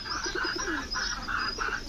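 Domestic pigeons cooing softly in a short run of repeated low, throaty coos, close by and without any talking.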